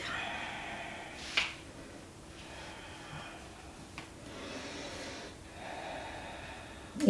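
Soft breaths and a couple of sharp nasal exhalations come during a stretching session, faint and close, with quiet gaps between them and no talk.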